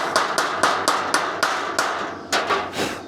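A chipping hammer knocks flux off a steel weld in about a dozen sharp, ringing metallic raps at a quick, slightly uneven pace, close and loud, with a short pause near the end.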